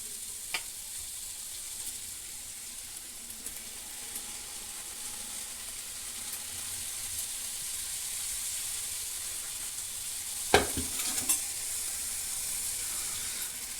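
Diamond-shaped pieces of sweet dough fry in hot oil with a continuous soft sizzle and hiss, then a couple of brief scraping knocks as they are stirred and turned.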